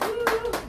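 A few quick handclaps for senior Han Jo-seop at a business management course opening ceremony, brief and close, with a sustained voice running underneath.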